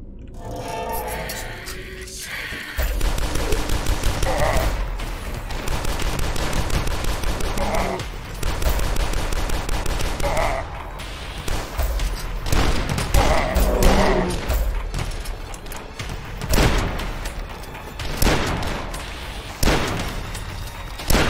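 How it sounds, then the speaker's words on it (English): Bursts of rapid gunfire and booming fireworks-like explosions fill a hectic session of the video game Doom, crackling in dense volleys with brief gaps, loud and continuous almost throughout. "Fireworks."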